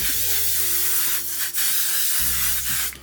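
Makeup setting spray misted onto a face, a close, loud continuous hiss of fine spray lasting the whole moment, briefly dipping once.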